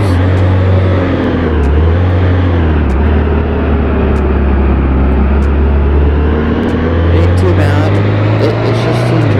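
A car cruises in regular drive mode, not sport, with a loud, steady engine and road drone that hums continuously inside the cabin.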